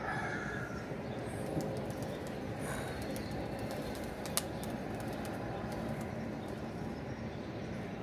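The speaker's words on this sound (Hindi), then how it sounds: "एक इसके ऊपर भी आया हुआ कबूतर" A pigeon coos on a perch at a rooftop loft in hot weather, soft low calls set within a constant broad wash of outdoor background noise, with a single sharp tick near the middle.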